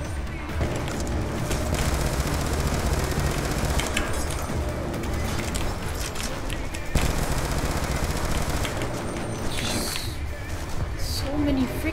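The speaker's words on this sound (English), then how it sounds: "So many freaking bullets just to take these guys out." Rapid machine-gun bursts and gunfire rattle almost nonstop in a Call of Duty Black Ops II campaign battle, loud and dense. A player's voice is heard talking over the shooting.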